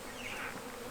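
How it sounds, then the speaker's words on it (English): Honey bees buzzing in a steady, close drone during a bee rescue at a telecom site, with no talking. "See those other bees will come out every so often?"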